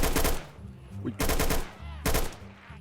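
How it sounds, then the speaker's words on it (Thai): Gunfire from a weapon in a Minecraft zombie mutant addon comes in three loud bursts of rapid shots spaced about a second apart, with a voice talking faintly beneath. "ผมจะยิงปืนแบบนี้เลยนะครับแอนิเมชันการยิงนะครับผม"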